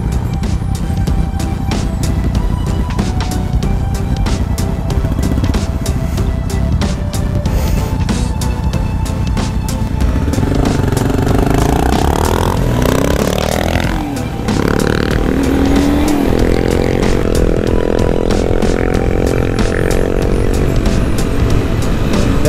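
Small-displacement motorcycles ride in a group while doing wheelies, their engines droning steadily and loud under wind noise, with revs rising and falling as bikes pull past.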